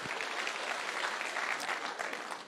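Sustained applause from a large audience of professionals gathered at a home in Karen, steady and dense clapping throughout, fairly loud and continuous without a break.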